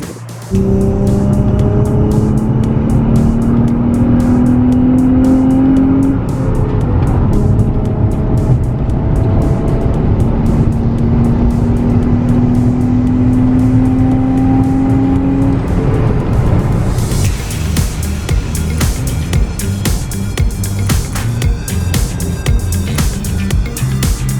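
A Nissan 350Z drives on a road trip toward the Grand Canyon, its engine a loud, steady drone rising through gear pulls with shifts between, then giving way to heavy wind and road rush, no voices.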